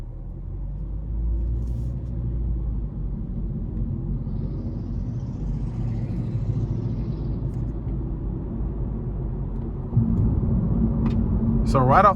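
A 2022 Honda Civic Sport 2.0 driving on the road, heard as a steady low interior rumble of engine and road noise. It grows slightly louder near the end and a person talks over it.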